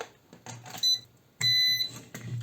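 An Aliexpress DTL150 150W electronic load emits short high-pitched electronic beeps, two distinct tones separated by a pause, over faint background clicks and handling noise.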